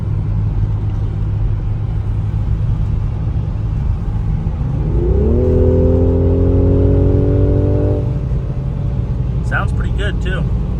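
A car engine idles with a low, steady hum, then revs up sharply about halfway through and holds a higher pitch for a few seconds before settling back. A brief voice-like sound comes at the very end.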